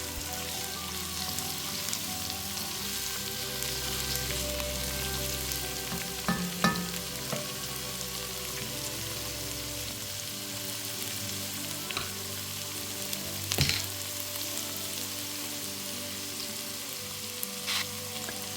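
Chopped carrots and celery sauteing in a soup pot, a steady close sizzle running throughout with occasional clinks and scrapes of a spoon stirring.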